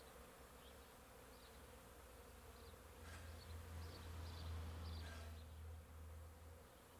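A swarm of honey bees, queen among them, is shaken from a branch and tumbles into a hive box, a soft, steady hum that grows louder partway through and swells into a thicker buzz.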